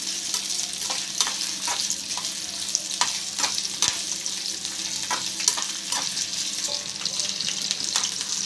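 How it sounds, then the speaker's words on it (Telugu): Green chillies and ginger fry in oil for a Telugu minapagullu pachadi, giving a dense, continuous, close sizzle. Sharp clicks of stirring punctuate it at an uneven rhythm, with no voices. "పచ్చిమిరపకాయలు కొంచెం మగ్గాక అల్లం అయితే వేసుకోవాలండి"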